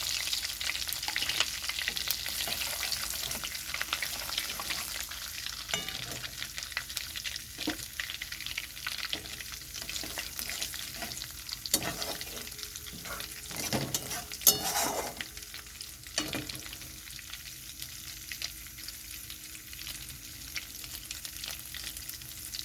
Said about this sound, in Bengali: এখানে দিয়ে দিচ্ছি গোটা জিরা, তেজপাতা